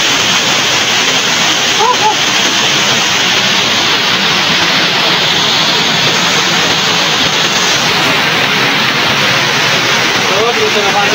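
Tinuy-an Falls in Bislig, Surigao del Sur, roars in a steady, loud broadband rush of falling water from near the top of the falls, constant throughout with no break.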